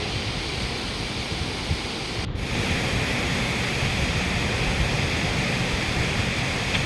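Burude Falls in the Uttara Kannada forests near Sirsi pours steadily, a dense unbroken rush of water that stays loud and close throughout with no voices.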